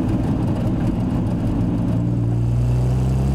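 Triumph TR6 with fuel injection pulling away from 1,000 RPM in fourth gear, a steady, loud engine drone rising in pitch as it accelerates, continuous and close.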